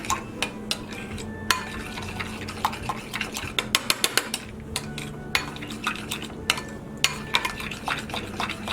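A utensil stirs lime juice through chicken empanada filling in a bowl, giving repeated close scrapes and clinks in an irregular rhythm over a soft, wet mixing sound.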